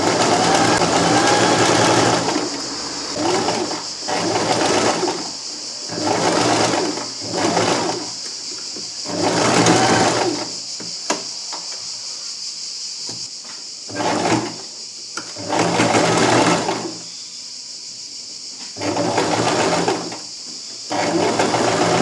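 A sewing machine stitches the armholes of a wax-print fabric summer dress in short bursts of rapid whirring, separated by brief pauses, close and clear.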